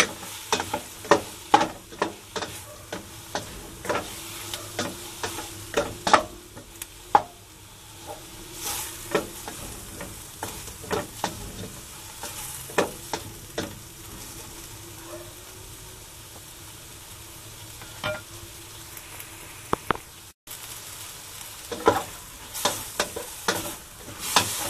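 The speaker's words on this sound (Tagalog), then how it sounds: "Lulutuin natin muna yung ating pusit at saka hipon." Squid and shrimp fry in a pan for a pancit buko dish, with steady sizzling under frequent sharp scraping and clacking of a utensil stirring, close and unbroken.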